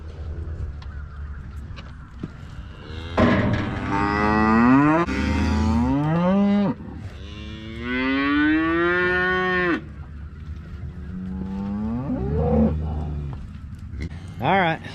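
Weaned calves and cows bawl and moo in long, loud, drawn-out calls, several overlapping or following one another on a farm, with a low rumbling background between calls.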